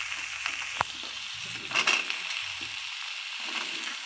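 Potatoes and carrots sizzle softly in oil with spices in a pan, with occasional scraping and clinking stir strokes against the metal, moderately quiet and without talk.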